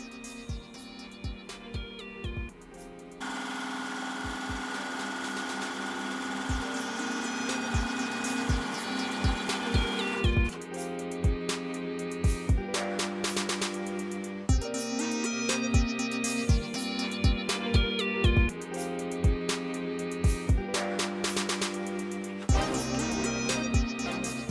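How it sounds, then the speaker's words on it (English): A Janome 550E embroidery machine sews a satin stitch onto faux leather. It makes a rapid mechanical clatter and whirring hum in rhythmic runs, stopping and restarting several times, close up and with no voices. "now I'm going to place it back in the machine to do a satin stitch"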